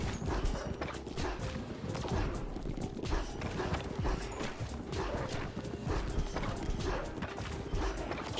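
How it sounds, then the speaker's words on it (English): Dogs bark and yip in a video game over a steady clatter of hoofbeat-like thuds and game noise, a busy, continuous mix of moderate loudness with no talking. "Shut up, doggies!"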